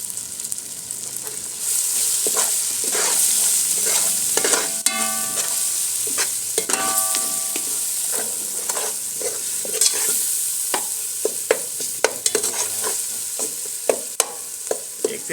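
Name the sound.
masala with crushed red chilli frying in pot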